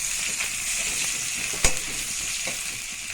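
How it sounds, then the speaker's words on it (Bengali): Raw onion sizzling and frying in a hot pan for pointed gourd dorma, a steady close crackle with one brief sharp clatter near the middle and no talking. "এবার এতে আমি একটু কাঁচা পেঁয়াজ দিয়ে দিলাম।"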